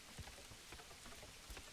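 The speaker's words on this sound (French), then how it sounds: "Ça va faire du bien d'être logé alors qu'il pleut comme ça." Steady rain falls across a medieval settlement in the strategy game Manor Lords, a soft continuous hiss with scattered droplet taps, moderately quiet and with no voices.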